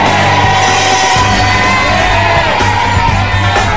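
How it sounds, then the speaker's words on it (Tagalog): A television studio audience on a Filipino game show shouts and yells together, a loud, dense crowd roar that stays continuous throughout. "ang sigaw ng ating studio audience"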